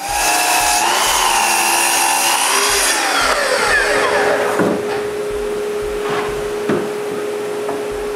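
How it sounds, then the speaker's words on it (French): A power saw cuts 17-inch soffit pieces from two board ends held together, loud and close with a high whine that winds down partway, followed by a lower steady hum and a few knocks as the wood is handled. "je mets les deux bouts ensemble et je coupe des soffites de 17 pouces."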